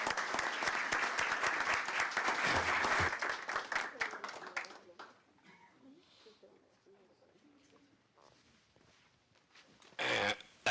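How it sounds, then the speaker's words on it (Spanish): An audience at a meeting applauds loudly for a few seconds, and the clapping then fades into quieter murmurs and scattered sounds before a brief burst near the end. "Nuevamente un aplauso."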